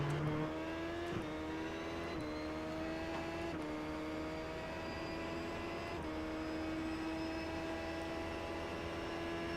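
Race car held near flat out through a track's first S-bend, a loud steady engine note close by with harmonics that climb gradually and reset at several gear changes, no talk.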